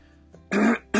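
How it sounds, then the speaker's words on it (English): A person clearing their throat close to the microphone: a small click, then a loud rough rasp lasting about a quarter second, followed after a brief pause by the start of another, in a quiet room with no other speech. "I got to clear my throat for this one,"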